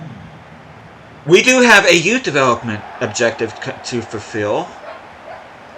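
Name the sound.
excited puppy barking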